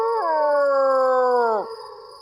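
A human voice imitates a dog howling at night with one long, drawn-out wavering howl that falls in pitch at the end, loud and close.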